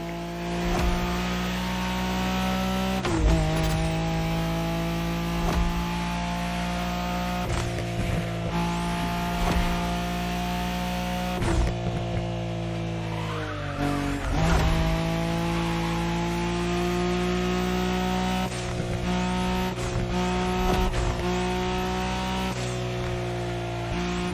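A Nissan Skyline racing flat out in a Wangan race in The Crew Motorfest, its engine droning loudly and steadily with repeated gear-shift dips and revving surges, no talk over it.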